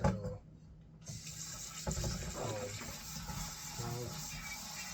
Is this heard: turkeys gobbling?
no